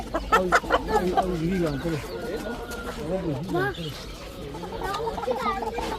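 Laying hens and roosters cluck and call at a crowded bird market in Adana, with repeated rising and falling squawks mixed among nearby human voices.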